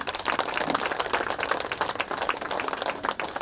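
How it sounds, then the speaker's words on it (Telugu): An audience at an event claps loudly for the speakers, a thick continuous burst of many hands applauding with no talking over it, sustained and fairly close throughout. "అలాగే ఇప్పటి వరకు మాట్లాడిన మాస్టర్లందరికీ గట్టిగా క్లాప్స్."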